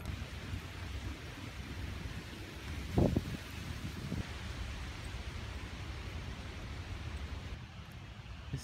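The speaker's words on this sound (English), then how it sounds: "It's like it's full on raining now" Steady rain falls outdoors beside a river, a soft continuous hiss with a few faint thuds, recorded while walking in a downpour.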